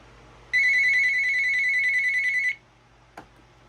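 A Uniden EXI976 cordless phone rings on an incoming call with one loud, close electronic trill lasting about two seconds, followed by quiet and a brief click.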